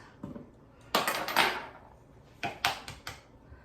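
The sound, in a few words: adding two eggs to cookie dough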